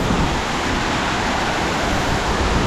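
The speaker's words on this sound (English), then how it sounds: "The waterfall causes a bit of wind" The biggest waterfall in the Strubklamm gorge near Salzburg makes a steady, dense roar of falling water, loud and close, unbroken and without speech.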